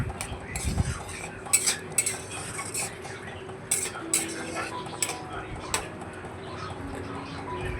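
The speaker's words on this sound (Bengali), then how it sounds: "তো মিশিয়ে দেওয়ার পরে এটাকে আবার খুব ভালো করে নেড়ে চেড়ে নেব" Egg curry stirred in a pot, with repeated metallic clinks and scrapes of a spoon against the vessel over a soft simmer, while a pigeon coos faintly in the background.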